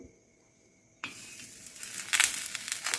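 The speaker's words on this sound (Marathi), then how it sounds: "हलकं हलकं तूप लावून आपण चपाती मस्त भाजून घेऊ" Quiet hum, then a sudden steady sizzle from a hot griddle as a chapati roasts with a little ghee, growing louder and crackling, close by.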